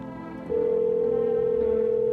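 A steady telephone call tone rings out in the horror video game No I'm Not Human, a single sustained electronic note that starts abruptly and holds loud and unbroken over a low hum of game music.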